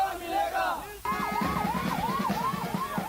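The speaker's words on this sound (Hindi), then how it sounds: "राहुल गांधी की यात्रा में एक एम्बुलेंस पहुंची हुई थी" An ambulance siren wails as the vehicle pushes through a dense crowd at a political march in India, a loud repeating up-and-down wail that begins abruptly after a moment of crowd shouting, with the crowd's noise still beneath it.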